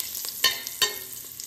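Ginger hits hot oil in a pan for a beef stir fry, a close steady sizzle with a couple of sharper crackles and stirring clicks, no voices.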